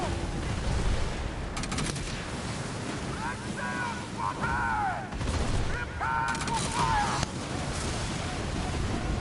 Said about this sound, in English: These torpedoes are shredding that ship.